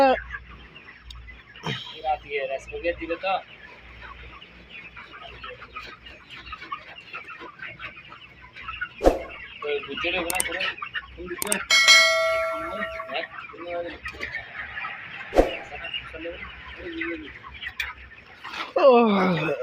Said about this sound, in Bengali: আমাদের আরফত ভাই মুরগি লাড়াচাড়া করতেছে